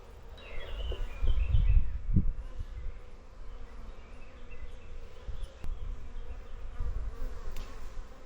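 Honeybees hum steadily around an open beehive full of capped honey and pollen, a close, low buzzing that rises and falls, with occasional handling bumps and no talk.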